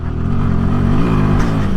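A 2024 Royal Enfield Himalayan motorcycle's engine pulls steadily under added throttle on a steep, difficult mountain road, a close, continuous mid-pitched drone with a slight rise in revs and no talk.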